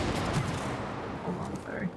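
Gunfire in the co-op video game It Takes Two: rough, noisy bursts of shooting blend with game effects and a few tonal blips, played back at moderate loudness.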